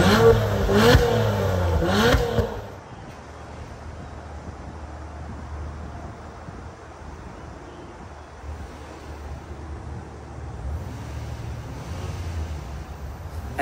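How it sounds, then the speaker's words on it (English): A 2024 Acura MDX Type S Advance and a 2023 Acura TLX Type S rev their exhausts outdoors, with a couple of loud rising and falling revs in the first seconds before steady wind and low rumble take over. "Now let's take a listen to the exhaust."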